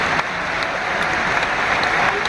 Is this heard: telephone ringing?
no